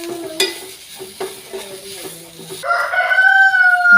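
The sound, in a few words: stirring crushed jackfruit in a pan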